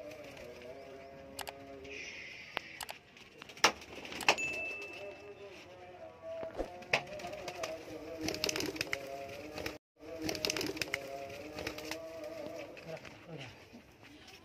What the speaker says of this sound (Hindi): चेक कर लो सारे उड्डन वाले कबूतर आए ने